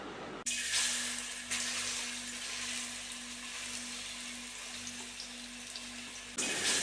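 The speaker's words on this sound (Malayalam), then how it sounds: "ഈ നെയ്യിലിട്ടിട്ട് ഏത്തക്കനെ നന്നായിട്ട് വഴറ്റിയെടുക്കാം" Sliced plantain sizzles in hot ghee in a heated uruli, a steady frying hiss throughout with a soft crackling texture, close and moderately quiet.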